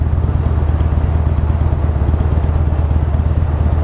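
A 2009 Buell Lightning Long XB12SS twin idles close by with a steady, lumpy low throb and light mechanical clatter, continuous and alone.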